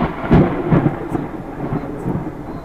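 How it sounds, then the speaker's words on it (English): Heavy thunder from close lightning during a storm in southwest Kansas rumbles in several deep, booming rolls, with faint rain hiss underneath and no voices. "We're gonna get freaking struck by lightning."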